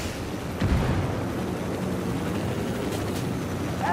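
Heavy gunship attack on a cartel outpost in Ghost Recon Wildlands, a dense continuous roar of gunfire and explosions with a strong low boom near the start and a steady rumbling wash throughout.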